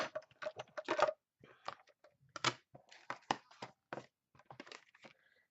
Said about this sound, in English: we just run them through the die cutting machine a couple of times